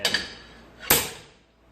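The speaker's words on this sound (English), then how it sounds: "use the slide hammer for the last part of it, getting behind here and whacking it" A slide hammer strikes a rusted rear brake drum on a Dodge Caravan, with two light taps and then one sharp metallic whack that rings out and decays, heard close up.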